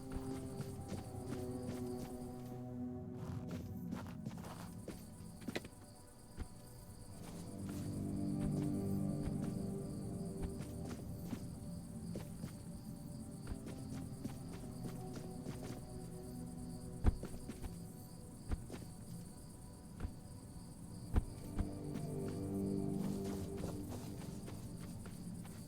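Horses' hooves clip-clop in the fantasy video game Tainted Grail: The Fall of Avalon, quiet scattered hoofbeats over a steady chirping of crickets, with no talking.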